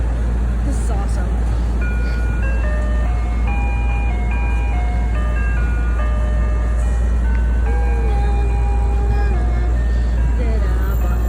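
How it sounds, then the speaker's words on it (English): An ice cream truck on a New York City street plays its tinkling chime melody steadily throughout, heard at a moderate distance over constant low city traffic rumble, with a person talking now and then. "And the ice cream truck is still over there"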